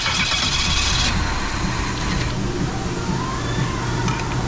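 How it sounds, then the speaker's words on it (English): An engine cranks and catches, then settles into a steady mid-pitched idle, loud and continuous with a brief burst of higher noise at the start. "Restarting the engine."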